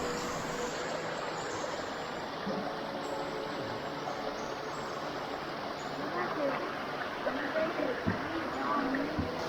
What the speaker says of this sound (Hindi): यहाँ ये आंटी जी बहते नाले के पानी में कपड़े धो रही हैं।